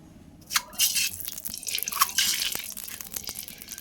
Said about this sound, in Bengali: কড়াতে আমি তেল দিয়ে দিয়েছি, দিয়ে এবার ডিমগুলো ভেজে নেবো